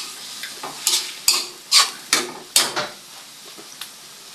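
Pakbet vegetables tumble into pork frying in a pan, giving a steady sizzle broken by about seven sharp scraping and clinking stirs of a utensil against the pan, close and moderately loud, with no talking.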